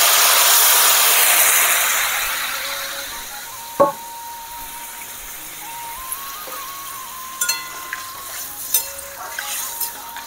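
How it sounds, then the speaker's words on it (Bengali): Broth poured into a pan of sizzling cauliflower and potato curry, a loud hiss of steam that fades over a couple of seconds into a quieter simmer with a few light clinks. "দিয়ে দিচ্ছি ঝোল।"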